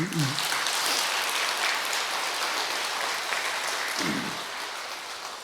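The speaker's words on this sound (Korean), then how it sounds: "부처님 닮아야 되겠다는 분 박수 한번 치라고." Audience at a Buddhist dharma talk in a Korean temple clapping on request, a broad steady patter of many hands, with brief voices rising near the start and again later.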